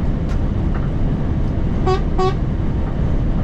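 Two short, flat single-tone truck horn toots sound close together over loud, constant engine rumble.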